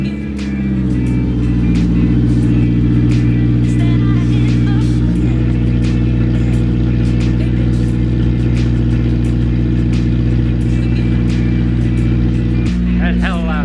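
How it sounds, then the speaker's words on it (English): A Honda S2000 engine with no exhaust fitted cranks, catches and idles loud and raw, with steady harmonic drone and occasional blips of revving, close up and continuous throughout. "It's kind of like the obligatory startup with no exhaust on."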